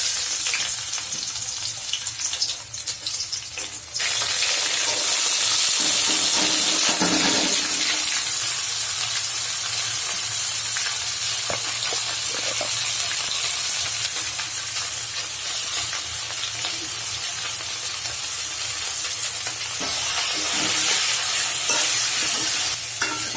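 Vegetables sizzle and hiss steadily in a pan with green chili, salt and turmeric, a loud, continuous frying sound with occasional stirring scrapes and no talking.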